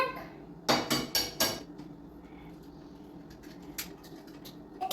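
An egg knocked against a bowl during hopper (appam) batter prep, giving a quick series of four sharp taps and clinks close by, followed by quieter faint clicks.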